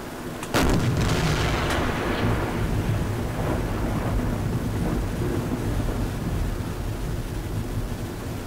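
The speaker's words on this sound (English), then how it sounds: "I'm just gonna damage you with my deck gun for a little while." A submarine's deck gun fires at a ship in Silent Hunter IV, one loud booming shot followed by a long rumbling decay over sea and storm-like background noise.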